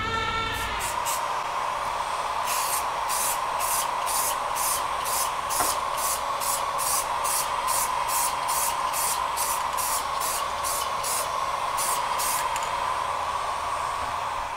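Spray can hissing a steady clear coat onto an Xbox One controller, a continuous close hiss lasting the whole stretch with a faint regular pulsing on top.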